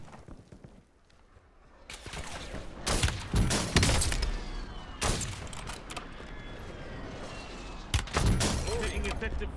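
Video-game gunfire in a battle-royale squad match, loud bursts and single shots arriving in irregular clusters close by, with the dense crackle of an ongoing firefight and a game voice speaking over it.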